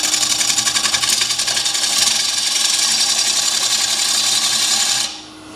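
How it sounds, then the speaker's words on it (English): A bowl gouge cuts into a spinning wooden bowl on a lathe, making a loud, continuous rasping scrape with a steady pulsing rhythm that stops abruptly near the end, leaving a faint motor hum. "Basically all you're doing is coming in and scooping out the bowl, gonna ride the bevel, and you go on through"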